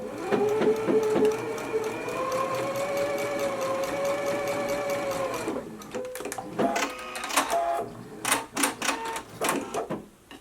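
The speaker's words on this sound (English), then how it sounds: "I'm just going to use a straight stitch." Domestic sewing machine running a straight stitch through knit fabric, using a stretch needle to reinforce large circles on a twist-front top; a steady motor whir holds for several seconds, then breaks into short, uneven bursts and stops.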